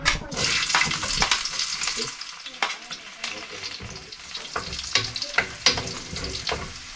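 Garlic sautéed in an oiled pan, bursts of close, bright sizzling rising and falling with stirring, spatula scrapes and clatters between surges.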